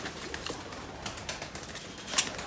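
Pigeon cooing from a fancy nasal-voiced breed, soft and fairly faint, with a few scattered coos and a brief sharper note near the end against a quiet background.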